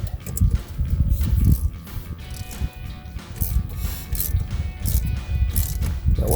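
Ratchet tightening bolts while mounting a powered heated folding mirror on a 2013-2018 RAM 1500, loud bursts of rapid clicking in several runs with pauses and handling noise between them.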